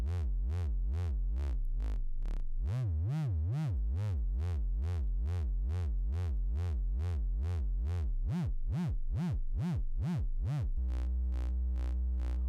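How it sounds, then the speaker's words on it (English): A Reaktor software synthesizer oscillator has its pitch swept up and down by an LFO, giving a rhythmic series of rising and falling electronic tones, steady and loud, changing speed and ending in a buzzy sustained chord. "so we can actually modulate our oscillator pitch up and down"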